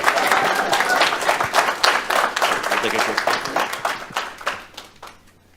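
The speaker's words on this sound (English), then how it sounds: "Big round of applause." Applause at a city council meeting for a DMV-related honoree: loud, close clapping from a crowd that holds steady for several seconds, then tapers off quickly at the end.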